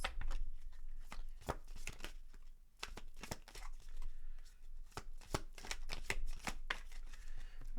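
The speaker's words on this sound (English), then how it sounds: "Let's get you some Moonology Oracle cards." Moonology Oracle cards being shuffled by hand, a close, quiet run of rapid riffling bursts and soft slaps with short pauses between them.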